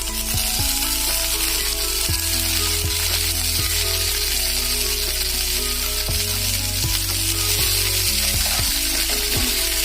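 Radish greens hitting a pan with browned onion and ginger, sizzling loudly and continuously up close, with low clunks of stirring against the pan throughout and no speech.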